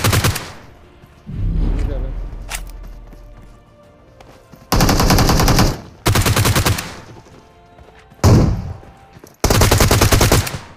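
Loud automatic gunfire in the mobile game PUBG Mobile comes in repeated sustained bursts of rapid shots, separated by quieter gaps with fainter distant firing.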